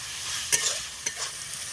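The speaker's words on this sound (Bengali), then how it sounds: "হাফ চামচ লঙ্কা গুঁড়ো, এটাকে ভালো করে কষিয়ে নিতে হবে।" Spices with salt and chilli powder frying in oil for ghugni, a soft steady sizzle broken by a couple of quick spoon scrapes and taps, close and moderately quiet, with no voices.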